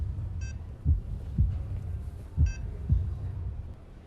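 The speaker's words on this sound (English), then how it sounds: "One clearly recognizes a slowed heartbeat." A slowed heartbeat heard through a stethoscope in Emergency Room Simulator: soft, low, muffled thumps in a slow, regular rhythm over a steady hum, with two short electronic beeps.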